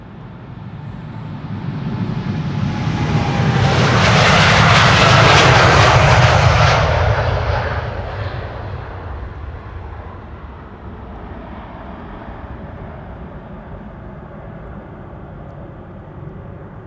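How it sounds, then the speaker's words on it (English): A four-year-old Boeing 787-10 Dreamliner departs Amsterdam Schiphol Airport. Its engine roar builds to a loud peak as it passes nearby, then fades into a steady distant rumble. "This is a 787-10 Dreamliner."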